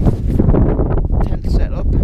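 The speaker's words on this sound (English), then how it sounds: "The wind's got up" Wind gusts buffet the microphone at a hilltop wild camp on Helm Crag, a heavy low rumble that rises and falls over two seconds.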